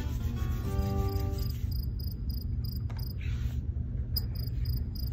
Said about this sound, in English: he chirped the most beautiful sound she had ever heard